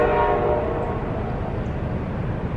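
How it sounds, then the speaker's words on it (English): A passing train sounds its horn, a loud sustained blare over the rumble of the rail cars close by, fading slightly as it holds, with no talking. "I don't know if you heard that over the train telling me I talk too much."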